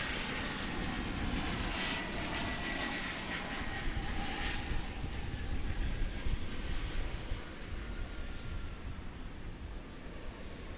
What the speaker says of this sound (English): We've got coming in another regional flight from a Texas destination.